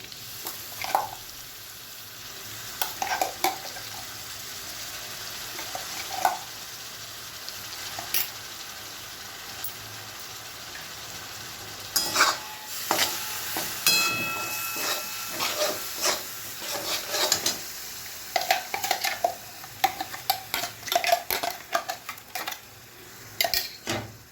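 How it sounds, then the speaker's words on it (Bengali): Pointed gourd paste being stirred into fried prawns in a pan: a continuous close sizzle with repeated scraping and knocking of a spoon on metal, growing busier toward the end. "চিংড়ি মাছটা আমার ভাজা হয়ে গেছে এবারে এতে আমি পটল বাটাটা দিয়ে দিচ্ছি"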